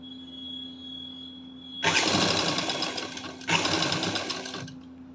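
Sewing machine running close up as it stitches a lining to fabric on an angrakha top, starting after a quiet lead-in with two sustained bursts of rapid stitching separated by a brief pause.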